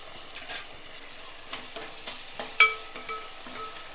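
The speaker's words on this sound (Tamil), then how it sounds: "தக்காளி வதங்கிட்டு இருக்கு." Onions and tomatoes sizzle in a pan with salt while being sautéed for a fish curry, a faint steady frying hiss broken by light scraping stir strokes and one sharper clink.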